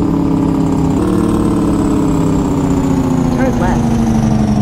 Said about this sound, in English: Let's hit this jake brake real quick.